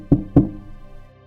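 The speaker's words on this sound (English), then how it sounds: "it came from behind the door, like fingers drumming, or teeth." Two hollow knocks on a door, close and fairly loud, spaced about a quarter second apart, then a fading resonant tail in a quiet horror-story scene.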